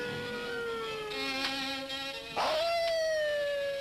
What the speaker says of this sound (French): Un chien enragé!